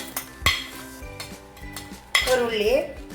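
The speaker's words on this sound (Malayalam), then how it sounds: "3 മുട്ട നല്ലോണം കലക്കാം" Three eggs are beaten in a bowl, with sharp clinks and scraping strokes of a utensil against the bowl in an uneven rhythm, close and with no voices.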